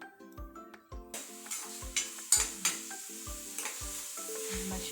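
Mushrooms sautéed in a pan, a rising sizzle punctuated by rhythmic spatula clanks against the metal, near and clear, with no one speaking.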